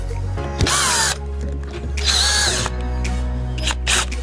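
A power drill whirs in two distinct bursts, driving an ordinary screw into the bar of a budget LED light bar, with short clicks and handling noises between the runs.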